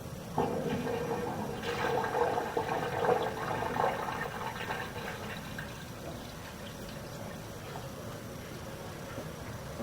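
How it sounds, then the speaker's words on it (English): A household toilet flushing on a residential sewer line, a steady rushing gush of water that swells for a few seconds then settles into a continuous running wash, fairly close and alone. "so I flushed the toilet here"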